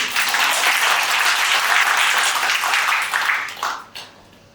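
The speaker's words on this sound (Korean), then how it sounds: "우리 저 선생님한테 박수 한번 주세요" An audience at a talk show applauds a guest with loud, sustained clapping that fades out near the end.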